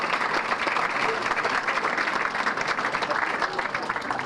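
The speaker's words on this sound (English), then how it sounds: "how about a big round of applause for the" A banquet audience at a sports hall of fame enshrinement applauds award recipients, dense sustained clapping filling the room at an even level.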